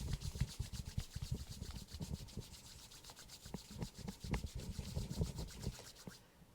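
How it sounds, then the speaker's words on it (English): Palms and soles of the feet rub together vigorously during a yoga session, a close, continuous brisk swishing friction with rapid rhythmic strokes and no speech. "Place the palms together, soles of the feet together, and rub them vigorously."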